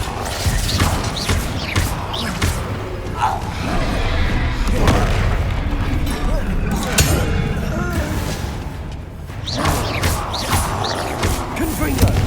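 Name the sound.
spell explosions from video game Hogwarts Legacy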